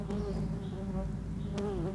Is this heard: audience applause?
no